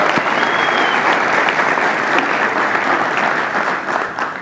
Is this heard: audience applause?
yes